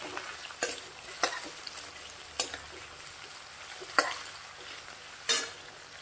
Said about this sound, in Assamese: এয়া সুন্দৰভাৱে এইখিনি মই প্ৰথমতে অলপ লৰাই লওঁ।